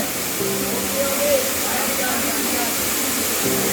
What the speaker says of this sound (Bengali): এই ঝর্ণাটাতে ভালো পানি আছে